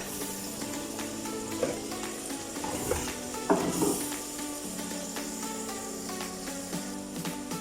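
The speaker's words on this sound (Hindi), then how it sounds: "अब इसमें हम लोग डाल देते हैं पालक जो बॉईल करके बारीक ली थी हमने" Boiled, finely chopped spinach frying in a pan, a soft continuous sizzle with occasional clinks and stirring scrapes throughout.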